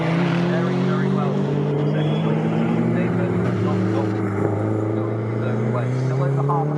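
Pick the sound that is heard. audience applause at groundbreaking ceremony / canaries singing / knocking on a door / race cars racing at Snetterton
race cars racing at Snetterton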